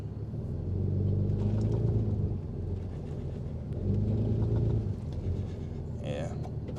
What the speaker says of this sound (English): We're going to put it in 4-wheel drive low and see if she'll come out.